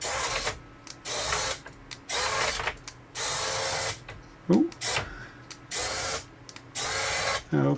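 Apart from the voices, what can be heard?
R2D2 dome motor running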